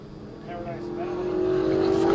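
A historic race car at Portland International Raceway comes around in the lead, its engine growing louder as it approaches, while an announcer talks over it.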